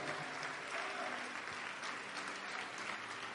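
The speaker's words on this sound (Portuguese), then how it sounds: "Vamos aplaudir mais ao nome do Senhor." Congregation clapping in praise during a church service: a continuous, fairly distant roar of many hands, steady and unbroken throughout, with faint voices mixed in beneath.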